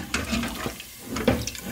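Water pours into a pot of desi chicken curry in a short splashing gush that swells, dips briefly, then surges again, close and moderately loud.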